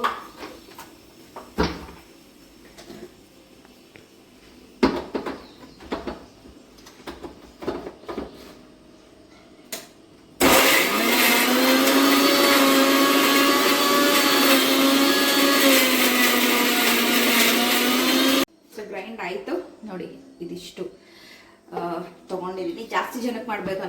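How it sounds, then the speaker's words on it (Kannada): A mixer grinder grinds rice in a loud, steady roar for about eight seconds. Clattering kitchen sounds and talk come before it, and talk and clatter resume after it stops abruptly. "ಸೊ ರೈಸ್ ಇಷ್ಟನ್ನ ನೀಟಾಗಿ ಗ್ರೈಂಡ್ ಮಾಡ್ಕೊಳ್ಳೋಣ"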